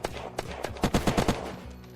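Gunfire in the survival game Unturned during a PvP raid, with a rapid burst of five or six close, loud shots followed by a couple of scattered single shots.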